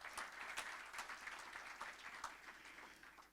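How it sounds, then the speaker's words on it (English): An indoor audience at a community gathering in Doha breaks into applause, a dense patter of many hands clapping together, fairly soft and distant, with no voices over it. "Give yourselves a round of applause,"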